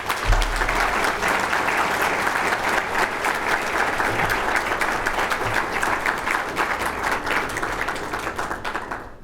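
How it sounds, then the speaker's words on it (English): A conference audience gives sustained, loud, even applause as a school girls' choir files in to sing the national anthem, with low shuffling thumps underneath. "Let's give them a round of applause on the way in."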